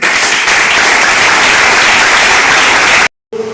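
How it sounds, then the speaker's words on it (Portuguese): A seminar audience at a church leaders' event bursts into loud, dense applause that runs steadily for about three seconds before cutting off abruptly. "Aplauda, por favor."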